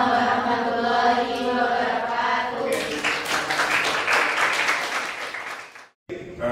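After a student presentation in a university class, a voice speaks briefly. Then the classroom audience breaks into a burst of clapping lasting a few seconds, which ends abruptly.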